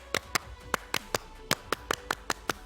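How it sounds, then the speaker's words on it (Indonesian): Indonesian scout clap (tepuk pramuka): about a dozen crisp, loud hand claps close by, spaced in the uneven pattern of the scout routine, with no talking over them. "Tepuk pramuka."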